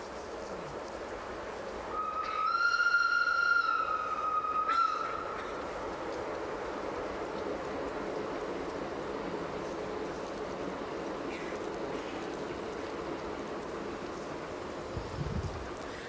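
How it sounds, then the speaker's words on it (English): A distant train whistle sounds once during an outdoor public talk in Saanen, Switzerland, in 1984: a single steady tone held for about two and a half seconds, moderately loud over quiet background hiss, with no talk. "That train have never whistled before."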